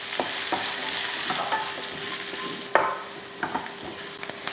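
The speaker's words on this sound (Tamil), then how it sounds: "இப்போ இதை வதக்கிடலாம்" Onion, green chilies, ginger and garlic sautéing in a pan for an idli kurma, with a continuous sizzle broken by repeated spatula scrapes and taps, one sharper knock in the middle.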